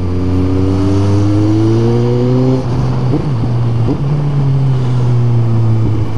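A KTM 390 motorcycle engine revs loudly and close, its steady harmonic drone rising in pitch, dipping briefly, then holding high again for about six seconds with no talk over it.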